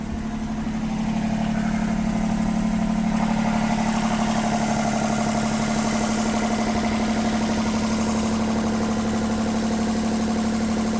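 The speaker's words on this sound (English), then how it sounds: "It's a bit low vibration at the minute, so the engine is moving a little bit more than normal." A sailboat's inboard engine runs steadily at low vibration, a continuous loud drone with a strong low hum that holds even and unbroken from start to finish, with no voices.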